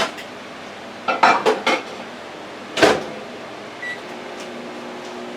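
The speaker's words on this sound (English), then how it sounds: "Okay, I'm putting it in the microwave." A dish holding bacon and egg is set into a microwave oven, giving a few close clattering knocks of plate and door around the first seconds, then one sharper clack, over a quiet kitchen hum.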